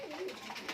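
A brief, faint coo comes from caged Giribaz pigeons, soft and close against a low background.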